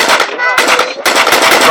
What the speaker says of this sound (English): close support machine guns used by British infantry squads, such as the one that you see here